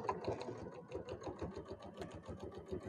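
A sewing machine stitching a zipper lip pouch, running in a quick, even rhythmic chatter at moderate, close-up level, alone without talk.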